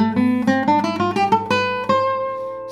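A plucked string instrument plays scale practice in a burst rhythm: a fast cluster of rising notes followed by a couple of longer held ones, close, ringing and unaccompanied.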